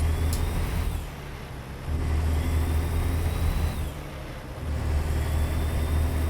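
A truck in American Truck Simulator shifts through its gears, its deep engine drone dipping briefly at each change before pulling steadily again, close and loud with no talk.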